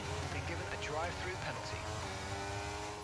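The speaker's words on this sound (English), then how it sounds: "Let's build the revs up and hold them" Racing-game car engine revving and held at high revs on the starting grid, a steady loud mechanical drone with rising harmonic sweeps, accompanied by other game sounds throughout.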